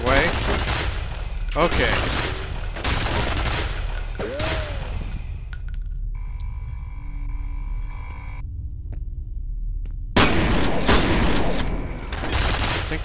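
Gunfire in the shooter game FEAR comes as loud, rapid volleys of shots with a heavy rumble, breaking off into a quieter stretch before another burst near the end. A player speaks briefly.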